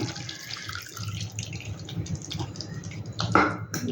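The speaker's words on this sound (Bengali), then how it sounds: "এইবার এতে জল দিয়ে নেব, তো আর একটু জল দিয়ে দিই" Water poured into a pan of jackfruit kofta curry gives a close, quiet splashing trickle with a brief louder gush near the end, under faint background noise.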